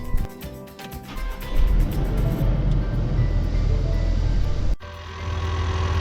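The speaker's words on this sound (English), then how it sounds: "then we're going to start the vehicle again" A vehicle engine restarting after a reset, a steady low rumble that swells and holds, cuts out briefly near the end, then resumes at an even idle, fairly close and without talk.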